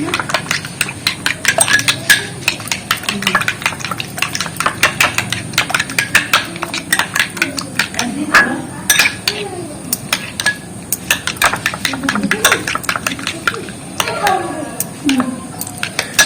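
Rapid clinking and tapping of a utensil beating a shampoo and herb mixture in a bowl, close and busy, with a soft voice murmuring underneath.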